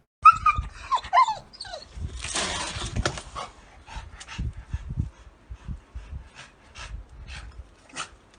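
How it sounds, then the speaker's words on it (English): A dog pesters a cat, with panting breaths, snuffling and small scuffling noises coming in short irregular bursts close by, plus a brief rasping burst and a few faint whimper-like sounds. "here's just a video of a worthless mutt bothering a cat for no reason"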